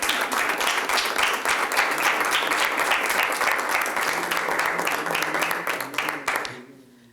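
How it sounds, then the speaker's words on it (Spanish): Audience applause at a literary session on Spanish aphorisms, a full room clapping steadily at close range before it thins out and stops near the end. "¿Aplaudimos?"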